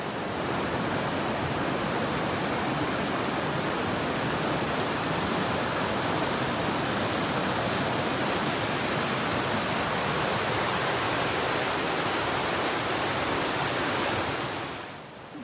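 A river flows beside a gravel path, a loud, steady rushing of water close by that fades out at the end.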